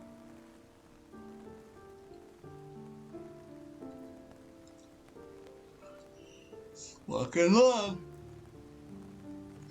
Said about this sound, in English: Just me and the rain for now.